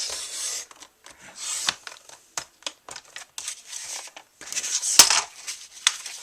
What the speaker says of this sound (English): Let's cut off this little piece here.